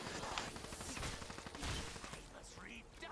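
Death Machine minigun fire in Black Ops 3 Zombies rattles out in a dense, continuous burst, loud and close, mixed with game effects and some voice.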